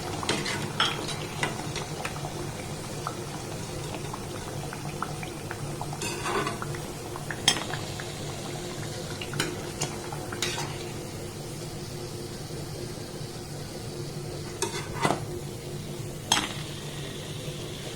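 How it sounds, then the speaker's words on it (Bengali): Potato and raw mango chops fry in oil in a pan, a steady sizzle running throughout with occasional sharper crackles and clinks of stirring, close and moderately loud, no voices. "একইভাবে সবগুলোকে আমি ভেজে নেব।"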